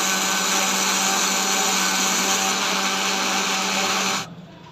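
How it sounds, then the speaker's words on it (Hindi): A kitchen blender grinds eggs with sugar and ghee, a loud, steady high-pitched whir running continuously before cutting off abruptly near the end. "और अब हम इसको ग्राइंड कर लेंगे जब तक चीनी मिक्स नहीं हो जाती।"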